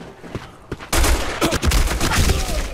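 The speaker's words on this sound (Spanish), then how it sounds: "me estaba disparando el del otro lado" A burst of rapid gunfire from the online shooter Black Squad erupts after a second of quieter game ambience, loud and sustained to the end.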